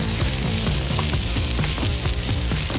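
Burger patties frying in oil on a Blackstone griddle for Oklahoma onion smash burgers, giving a steady close sizzle with faint scraping clicks and rhythmic low thumps, with no talking.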